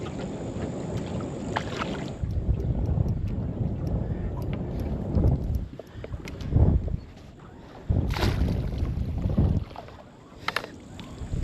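Gusty wind buffets the microphone on a boat on a river during jewfish fishing, coming in loud rumbling bursts with short calmer gaps and faint water sounds.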